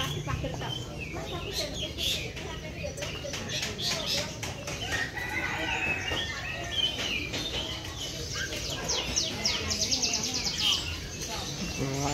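Many birds chirp, tweet and cluck continuously at a busy outdoor bird and animal market, a dense layered chorus with chicken sounds mixed in and people talking in the background.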